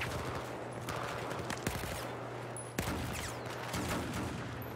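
Magnum revolver fire in Battlefield 4 cracks out as a few sharp, spaced shots over a steady hum of background game noise during a LAN championship match, fairly faint, with no talk.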